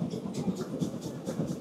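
A steam train pulling seven or eight carriages on a journey in Germany, heard from on board as a steady rumble with regular clickety-clack beats from the wheels over rail joints, with no voices.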